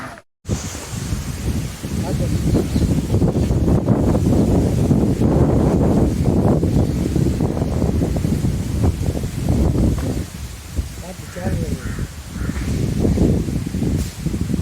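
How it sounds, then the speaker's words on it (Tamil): Gusty wind buffets the microphone and rustles through leaves in continuous surges, loud and close, rising and easing over time. "சும்மா உட்காந்தாவே இப்படி காற்றடிக்குது செம்மையா"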